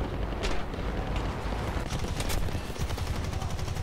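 Bullets from enemy fire hitting the player's MB157 aircraft in War Thunder, a dense, continuous clatter of rapid gunshots and impacts lasting throughout, loud and close with no talking.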